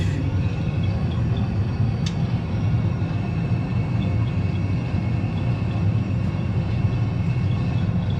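Airbus A320 engines spooled up to takeoff thrust in a flight simulator game, a steady, loud, unbroken roar with a deep rumble and a faint high whine running through it, and no voices over it.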